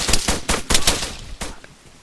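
Rapid automatic gunfire in the Arma 3 military video game, a loud, close string of bursts with uneven spacing that thins out toward the end, with no talk over it.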